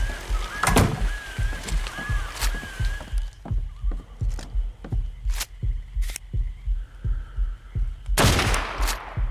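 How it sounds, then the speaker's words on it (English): Gunfire in ARK: Survival Evolved, loud sharp shots repeating in an irregular rhythm over a steady pulsing low thump and hum, with a brighter burst near the end. "I just shot him in the butt"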